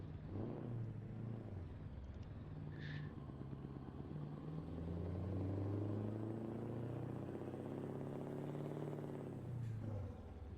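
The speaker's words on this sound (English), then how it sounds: "Let's get this truck started up." A truck's diesel engine in Euro Truck Simulator 2 turns over and settles into a steady low rumble, rising slightly in pitch midway before easing back down, fairly quiet with no talking.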